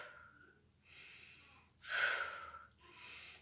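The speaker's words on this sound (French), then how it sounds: "On inspire et on lâche." Slow, deep breaths in and out, each inhale and release a soft airy rush at close range, the longest swelling in the middle, with no talking.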